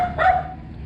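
A dog gives a single short, sharp bark, close and fairly loud, over a low steady background hum.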